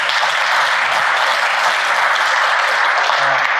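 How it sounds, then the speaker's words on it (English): Audience at a community health speaker series gives a round of applause, dense steady clapping from many hands that stays loud and even throughout, with no talking over it. "let's all give them a round of applause"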